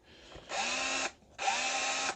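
An older Makita 18-volt 5-amp SDS drill running on hammer action makes two sustained buzzing bursts, each about half a second long, separated by a short pause, close and fairly loud.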